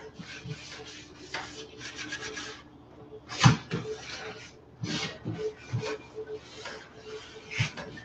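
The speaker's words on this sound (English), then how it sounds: "And I'm scrubbing, but not hard." Wooden furniture is scrubbed lightly by hand to clean it before painting, a series of soft rasping rubs in uneven strokes, close and fairly quiet, with brief pauses between passes.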